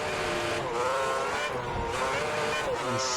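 Formula 1 race cars in F1 2010 at the Brazilian circuit, a steady high engine whine with shifting pitch from a pack of cars running close together, near and continuous.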